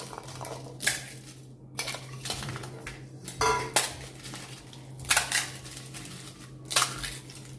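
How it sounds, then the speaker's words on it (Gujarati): Fried puris for churmur bhel are broken and crushed by hand, giving several sharp, crisp crackling bursts at irregular intervals over a low steady hum, close and fairly loud. "તો મેં 15 જેવી પૂરી લીધી છે, એ આ રીતે ભાગી લઈશું।"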